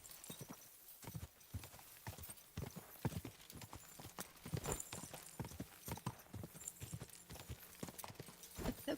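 Horse hooves in a video game clip-clopping in a steady, quick rhythm on a hard surface, fairly quiet, with an occasional faint whinny and no talking.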